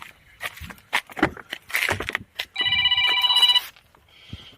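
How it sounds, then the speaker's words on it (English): A telephone rings in one steady burst of bright electronic trill lasting about a second, loud and close, with brief background sounds before it and a fainter tone trailing after. "My phone is ringing."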